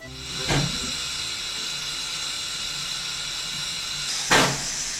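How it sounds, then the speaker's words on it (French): A steam train lets out two short bursts of hissing steam, a few seconds apart, over a steady background hum. "À Sabre, on avait notre train à vapeur, qui maintenant est classé monument historique."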